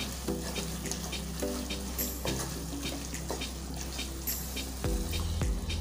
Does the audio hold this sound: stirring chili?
yes